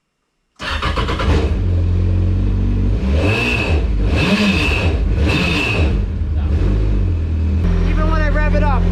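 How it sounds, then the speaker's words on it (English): Supercharged waverunner engine runs loudly up close, with several distinct revs rising and falling in pitch over a steady rumble as a voice speaks over it. "Even when I rev it up, there's nothing coming off that supercharger."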